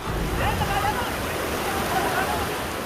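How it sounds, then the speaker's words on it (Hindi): Floodwater surging down mountain slopes in Uttarkashi after a cloudburst, a steady loud broadband roar of rushing water like a waterfall, constant throughout with no pauses. "पानी का ये सैलाब उत्तरकाशी के पहाड़ों पर बादल फटने के बाद शुरू हुआ है।"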